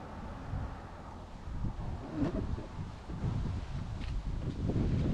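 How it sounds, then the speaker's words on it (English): Gusty wind buffets the microphone with low rumbling bursts, fairly steady with stronger gusts toward the end, no voices. "It's getting kind of windy here."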